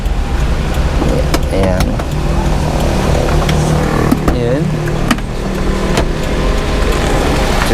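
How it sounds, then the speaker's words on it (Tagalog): A T6A engine in a cheap 4x2 manual minivan idles steadily after a cold start, a constant close mechanical drone running throughout while someone speaks briefly over it. "ito yung makina natin na T6A engine"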